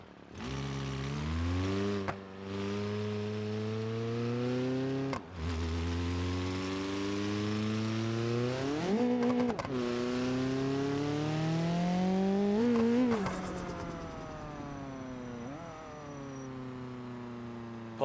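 Front-wheel-drive car engine in BeamNG.Drive revving hard through repeated climbing sweeps with brief dips between, loud and continuous and close, no voices.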